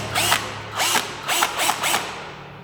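A Hikari 12V cordless drill on its slow setting drives a screw in four whirring bursts of rising and falling pitch, close and clear, the last trailing off into quiet.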